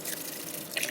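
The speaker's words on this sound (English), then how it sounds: "Pour off that water, add more water and wash again." Uncooked rice being washed in water for Jamaican-style peanut and rice, a close, steady wet swishing and dripping that lasts about a second.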